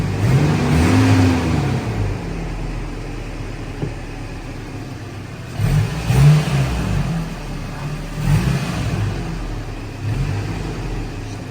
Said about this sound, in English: Let's hear it run. Rev it up.